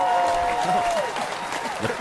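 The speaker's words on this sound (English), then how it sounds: "The applause." Audience applause at a talk on foster youth welcomes a speaker, brief clapping heard under a voice and a sustained tone.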